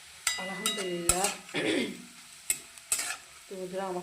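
Potato pieces fry and sizzle in a pan while being stirred, with sharp clinks of the utensil against the pan and a voice sounding intermittently over the frying.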